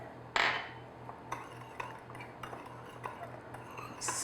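Granulated sugar and ground cinnamon are stirred together in a bowl. A sharp utensil knock opens the sequence, then a string of light, rhythmic clinks and scrapes follows. The sound is quiet and close, with no talking.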